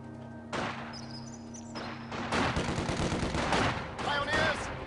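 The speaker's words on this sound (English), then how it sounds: "Incoming fire." Gunfire in the Company of Heroes video game: rapid machine-gun bursts and crackling rifle shots build into a dense, loud fusillade, with a clipped in-game voice line near the start.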